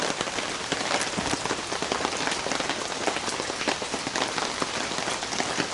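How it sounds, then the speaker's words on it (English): Rain falls on a tarp in a dense, unbroken patter of countless drops, loud and close with no voices. "it's raining again"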